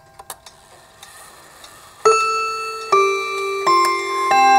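A Hermle 8-day Westminster chime wall clock strikes the quarter hour with four clear, ringing chime notes, each sustaining and overlapping, after a few faint ticks.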